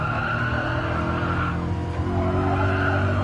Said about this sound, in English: Tires are screaming every time I take that corner.